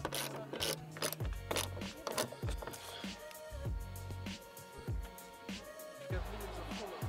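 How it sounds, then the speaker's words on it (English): Star-bit driver loosening the bolted fasteners on a Jeep JK hardtop, giving repeated close ratcheting clicks in short bursts with low thumps and a faint metallic ring between turns. "It takes a star bit. Gotta loosen it up."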